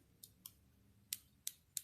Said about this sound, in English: These are scissors.